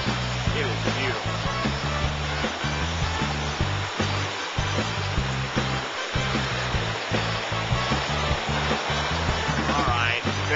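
Fast water rushes loudly and continuously down a small mountain creek, a dense, close roar with low churning surges throughout.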